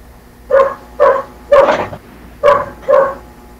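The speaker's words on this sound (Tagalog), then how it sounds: "Ingay naman ang aso yan." A neighbour's dog barks five times in a steady rhythm, loud and fairly close, with short pauses between each bark and no talking over it.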